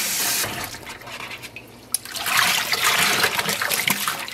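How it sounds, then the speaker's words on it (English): Tap water runs into a basin for rinsing dyed yarn, starting quietly and then swelling into a louder, steady gushing stream after about two seconds. "So I'm going to fill up this basin with water."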